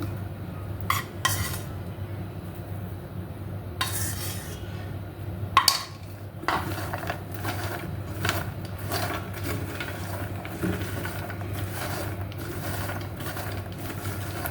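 Makhana and spice powder are stirred in a pan with a spoon, giving irregular scraping and clinking strokes over a low steady hum, with no talk.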